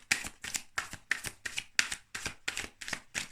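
Tarot cards being shuffled: a steady run of about nine crisp riffling bursts, evenly spaced and close, with no talking.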